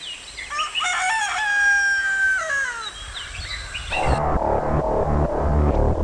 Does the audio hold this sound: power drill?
no